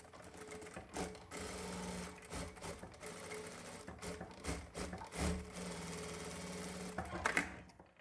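A sewing machine stitches a fabric face mask in bursts of rapid mechanical chatter, with short pauses between runs, close and steady with no talk.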